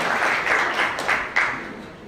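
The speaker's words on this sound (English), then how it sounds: "give a big hand of, applause to your children for bringing you all here" Audience applause for children at a Children's Day celebration, a steady wash of clapping that swells in a few bursts and carries on throughout.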